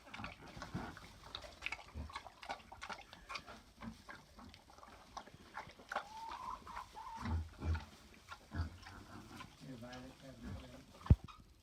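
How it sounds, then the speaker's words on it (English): Pigs on a homestead grunt and oink in short irregular bursts, upset over sheep taking their food, mixed with shuffling and other animal noises, while a person talks nearby. "The pigs get quite upset when the ewes come in here and try to steal their food."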